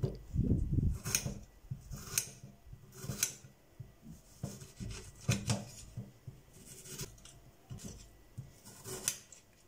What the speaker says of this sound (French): on va découper les oignons